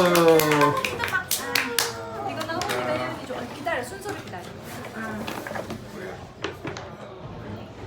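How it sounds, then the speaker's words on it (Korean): Family members clap their hands in a home gathering for a baby's 100th-day celebration, a few sharp claps mixed with lively overlapping talk and chatter throughout. "박수 박수"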